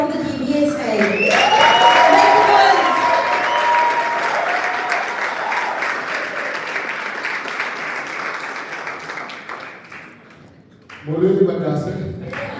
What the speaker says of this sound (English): I want to hear a round of applause for our guest speaker, Lucas Kuman from the DBSA